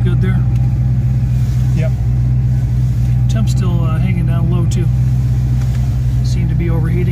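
A 1971 Oldsmobile Cutlass engine runs at a steady idle after about fifteen minutes of warm-up, its low continuous rumble filling the background while people talk over it.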